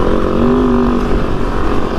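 A Kove 450 Rally motorcycle engine running in second gear while being ridden, heard as a loud, continuous close-up drone that fills the whole stretch.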